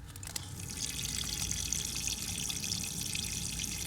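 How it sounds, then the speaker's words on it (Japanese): Water streams steadily from the tap into a small sink in a compact Nissan NV200 campervan, a continuous close splashing rush with no talk. "すごい可愛らしいシンクがあります。 しっかりお水も出ます。"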